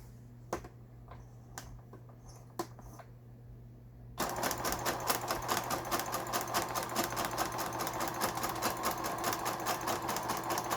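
A Brother household sewing machine runs after repair: a few isolated clicks and taps at first, then steady rapid mechanical stitching chatter that starts abruptly and continues evenly and close until the end.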